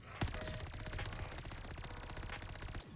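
An AS-44 assault rifle in Call of Duty: Vanguard Zombies fires a sustained, rapid automatic burst of closely spaced sharp shots for nearly three seconds, loud and steady before cutting off.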